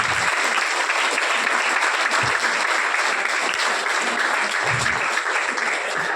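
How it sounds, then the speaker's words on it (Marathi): An audience at a conference applauds, a dense, loud, continuous burst of clapping from a large hall crowd that holds steady for several seconds. "एकदा जोरदार व्हायला पाहिजे, टाळ्यांचा गुंजाइश झाली पाहिजे"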